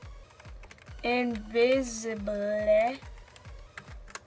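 Computer keyboard keys tapped in a steady rhythm while a Minecraft command is entered, with a person talking over the clicks for most of the clip.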